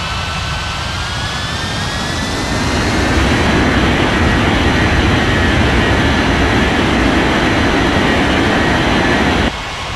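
A jet airliner taxis in an air traffic control video game, a loud, steady jet engine roar and whine that swells after a few seconds and holds before easing off near the end.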